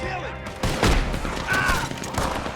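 Gunfire in Red Dead Redemption 2 Online, a few loud shots and a sharp burst during a chaotic shootout, with shouting voices and clattering game noise around them.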